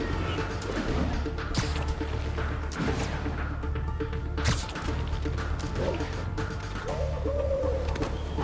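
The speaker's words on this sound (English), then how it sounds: "one of Howard's pigeons" Soft cooing of a pigeon in the Marvel's Spider-Man video game, a few low throaty coos near the end amid background city ambience and scattered thumps.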